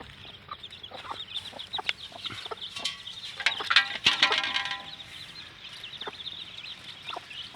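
Aseel hens clucking in a small farmyard flock with chicks nearby, scattered short clucks and chirps against steady ambient birdsong, with a busier burst of calls midway, moderately close and fairly soft.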